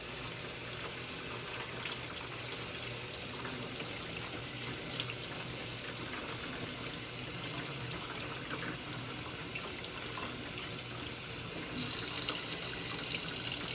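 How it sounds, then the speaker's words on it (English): Hot tap water runs over a wet-felted glass jar being rinsed, a steady hissing stream close by that continues unbroken and gets slightly brighter toward the end. "I'm going to rinse this off with hot water."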